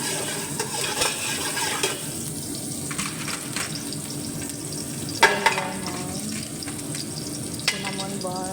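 Garlic sizzling in a frying pan for brown rice with chicken, a steady close hiss with stirring scrapes and a few sharper clinks of a utensil against the pan, no talk.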